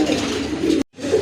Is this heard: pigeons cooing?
yes